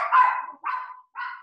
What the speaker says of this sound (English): And living with very loud dogs.